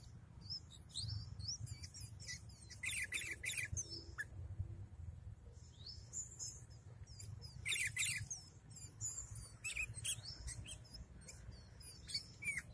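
A sooty-headed bulbul sings in repeated bursts of bright, chattering chirps and squeaky notes, fairly close, over a low rumbling background noise.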